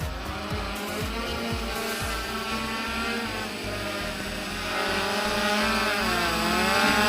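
Homemade quadcopter running an APM 2.8 flight controller, motors buzzing steadily in stabilized-mode flight, a dense whirring hum that grows slightly louder toward the end, no talking.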